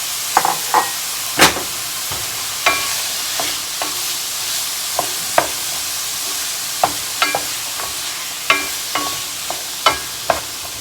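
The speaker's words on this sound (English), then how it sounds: "2 stalks of celery that I diced up and 1 green bell pepper that I diced up. And we're going to cook this for about 5 minutes." Diced celery and green bell pepper sauté in a pan under a constant soft sizzle, broken every second or so by sharp clicks and scrapes of a spoon stirring, close and without talk.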